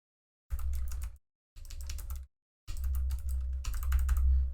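Bursts of typing on a computer keyboard while working a LeetCode problem, three separate runs of rapid close-up key clicks with short silent pauses between them, no talk over them.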